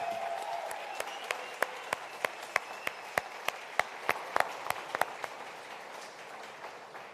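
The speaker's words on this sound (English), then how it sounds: "Another round of applause." At an awards show, distinct, evenly spaced claps ring out over a soft crowd murmur, fairly close and steady before thinning out toward the end.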